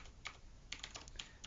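Fingers tapping out a git command on a computer keyboard, a quiet scatter of irregular close keystrokes over a low background hum, no talking.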